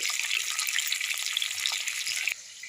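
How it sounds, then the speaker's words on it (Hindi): Cabbage and potato sizzle in a pan with a dense, steady hiss that drops to a softer sizzle near the end. "तो जब तक हमारी उधर सब्जी फ्राई हो रही है"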